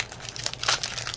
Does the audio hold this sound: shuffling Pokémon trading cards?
yes